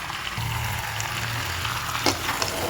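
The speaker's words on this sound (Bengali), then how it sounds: "খুব ভালো করে কষাবো" Country chicken curry with garlic and coriander frying in a pan gives a dense, even sizzle, with a low hum under it and a couple of brief scraping clatters toward the end.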